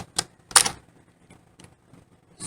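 Keystrokes on a computer keyboard come in short separated bursts, a quick pair then scattered lighter taps, fairly close and alone without talk.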